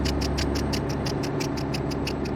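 Heavy truck engine idling in American Truck Simulator, a steady low rumble with a regular ticking pulse about five times a second, close and constant with no talk.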